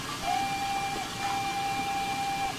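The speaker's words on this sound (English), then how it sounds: "Can you push the whistle?" Steam locomotive whistle in Train Simulator 2019, a single sustained steady tone held for about two seconds over faint background rumble.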